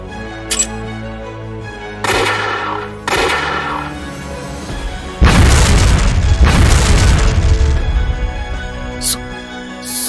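Heavy booming blasts of a sniper shot or explosion in the Code Geass Lost Stories game, several loud impacts over a sustained rumbling battle bed with music and voices.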